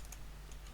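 Code being typed on a computer keyboard during a VB.NET programming lesson, a few quick, light key clicks in under a second, faint and close with a low steady hum behind.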